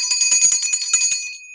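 Small hand bell rung in a quick series of bright, ringing strikes, about a dozen tinkling hits over a sustained shimmering tone that fades out at the end, close and clear with no talking.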